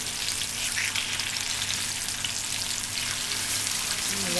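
Tuna with piquillo peppers and garlic confiting in a pan of oil, a steady, close, even sizzle and bubbling that holds through the whole stretch with no one speaking.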